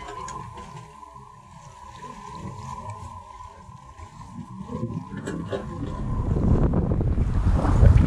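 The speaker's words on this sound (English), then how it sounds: "Sailing through the passage of the north side of Tortola in BVI Island." A sailboat moves through the passage on the north side of Tortola in the British Virgin Islands, with wind buffeting and water rushing past the hull, growing louder toward the end.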